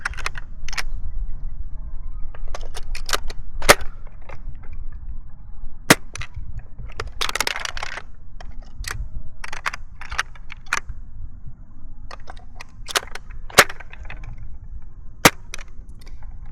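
A stock Nerf ZombieStrike Sledgefire blaster being fired and reloaded with shells, heard as a series of sharp pops and clicky plastic handling noises over a steady background rumble, close by.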